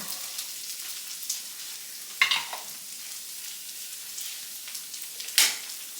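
Bell peppers and onions sauté in a pan for moi moi, making a soft, continuous hissing sizzle with a couple of sharp utensil clinks against the pan.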